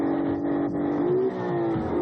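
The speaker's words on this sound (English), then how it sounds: "a car company that made its new sports coupe as exciting to listen to as it is to drive" A new sports coupe's engine revs loudly and steadily up close, its rising and falling tone sustained alone for the whole stretch with no voices.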